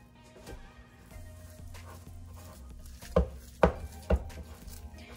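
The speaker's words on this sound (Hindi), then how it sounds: "और इसमें से मैं कुछ हरा धनिया और इन सबको मैं मिक्स कर लूँगी।" Shami kabab mixture being mixed with green coriander by hand in a bowl: soft low rustling with a few louder thumps near the end, no talk.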